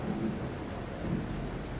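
Thunder rumbles in the video game The Alters, a low continuous roll mixed with steady rain, fairly loud and close, with no talk.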